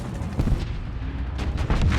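Tank cannon fire in a tank combat video game, heavy booming shots near 0.5 s and again near 1.7 s over a continuous low engine rumble, with no talking.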